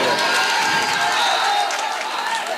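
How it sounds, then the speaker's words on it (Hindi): An audience claps at the 2022 All India Mushaira in Azamgarh, a loud, dense, sustained wash of applause with crowd noise throughout. "एक बार तालियां हो जाए जबरदस्त"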